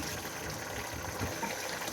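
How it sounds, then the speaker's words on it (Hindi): Water pours from a cup into a pressure-cooker pot of spinach, turnip, cauliflower and mutton, a soft steady gushing for a couple of seconds at moderate loudness, with no talking. "और 1 कप के करीब इसमें पानी डाल दें"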